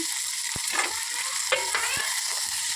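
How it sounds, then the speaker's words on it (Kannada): Cluster beans hiss in hot oil in a pan, a dense close sizzle with a few sharp spoon taps and scrapes, no talking. "ಎಣ್ಣೆ ಕಾಯಿದ ನಂತರ ಇವಾಗ ಚೌಳಿಕಾಯಿ ಹಾಕ್ಕೊಳ್ಳೋಣ"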